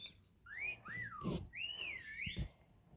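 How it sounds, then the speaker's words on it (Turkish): Sliding whistled notes rise and fall in a short tune in a Roblox game, clear against faint background rustle and a couple of soft thumps. "Arkadaşlar ıslık çalıyor şu an."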